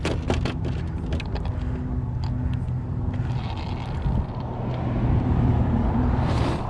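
An Arrma Mojave RC car driving off-road through thorny terrain, a close rumbling motor with crunchy ground noise and sharp knocks, swelling louder near the end.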